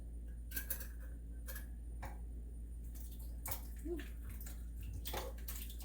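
A 28-ounce can of diced tomatoes with their juices is poured into a slow cooker, giving soft wet splats and sloshes over a steady low hum, with no talking.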